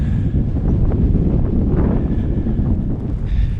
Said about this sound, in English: Headwind again.